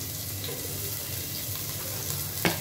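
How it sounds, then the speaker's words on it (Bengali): Onion fries in a pan of oil with a steady, soft sizzle throughout, ending in a brief clink of a utensil near the close; no one speaks. "যে পেঁয়াজটাকে একটু করে নিলাম, ভাজা ভাজা করে নিলাম।"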